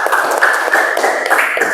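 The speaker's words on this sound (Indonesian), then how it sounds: "kita tepuk tangan untuk kelompok 2" A classroom group applauds after a student presentation, with a brisk, continuous patter of many hands clapping together, fairly loud and close, with no talk over it.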